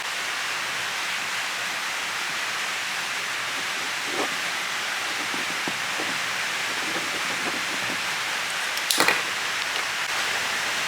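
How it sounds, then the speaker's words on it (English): Steady rain hisses evenly for the whole stretch over a car engine bay, with a few faint taps and a brief knock near the end. "as the rain starts up again"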